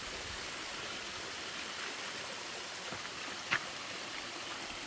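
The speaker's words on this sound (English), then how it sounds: "But you have a little waterfall right here." Continuous rushing water from a small waterfall at a mineral bath in Jamaica, steady and fairly close, with a single brief tap partway through.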